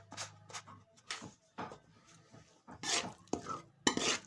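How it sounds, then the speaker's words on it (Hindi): Ground garam masala is stirred into a fully cooked dish, then the pot is covered, giving faint, scattered clinks of a spoon against metal and a soft lid knock, quiet and close. "हाफ चम्मच ऐसे, और मिक्स करके ऊपर से कवर कर देंगे"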